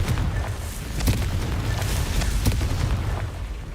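A Confringo blast spell in Hogwarts Legacy erupts in a dense, loud stretch of booming explosions, with several sharp cracking bursts punching through a constant low rumble of combat noise.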